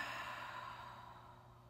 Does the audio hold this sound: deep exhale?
yes